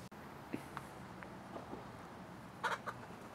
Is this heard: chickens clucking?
yes